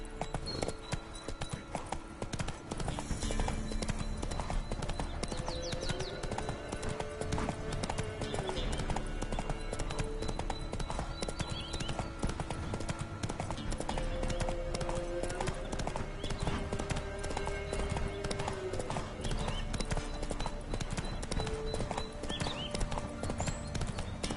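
Steady clip-clop of the horse Roach's hooves in a PS4 video game, an even trotting rhythm that continues without a break over a faint ambient background.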